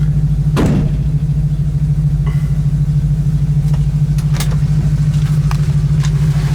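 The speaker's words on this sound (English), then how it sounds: "This thing idles great too," A 1966 Ford Mustang coupe idles steadily close by, a smooth, even low rumble holding without revving, with a brief sharp knock near the start.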